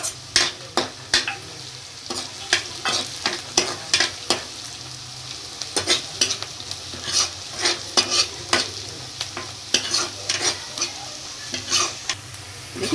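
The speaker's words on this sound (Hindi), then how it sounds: "अब प्याज के साथ इनको ही फ्राई करेंगे," Onions and green chillies frying in a pan while being stirred for a restaurant-style matar mushroom curry, a steady close sizzle broken by repeated sharp spatula scrapes in an uneven rhythm, with no talking.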